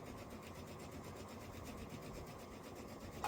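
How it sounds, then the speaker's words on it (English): A home sewing machine stitches across opposite corners of a quilt block, its needle motor running at a steady, fast, even hum that is close and constant throughout, with no talking. "So what I'm doing is I'm sewing opposite corners right now."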